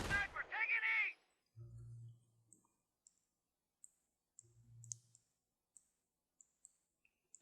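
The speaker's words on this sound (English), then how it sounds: "And now I start sniping all of his men." Sniper rifle shots in the real-time strategy game Company of Heroes: two deep, muffled reports spaced a few seconds apart amid sparse sharp clicks, following a brief burst of voice at the start.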